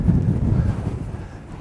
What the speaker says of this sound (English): we've got a bit of a wind